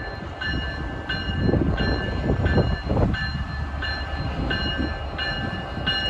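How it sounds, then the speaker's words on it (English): New York and Atlantic freight train RS80 passing at Jamaica, a loud, steady rumble of rolling cars with a repeating high-pitched tonal squeal or whine throughout, close by. "Here comes New York and Atlantic train RS80"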